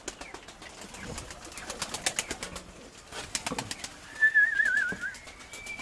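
Pigeons gather at a feeder outdoors, with repeated soft wing flaps and pecking clatter, several nearby coos, and a brief tonal whistle-like call near the end, moderately loud against quiet surroundings.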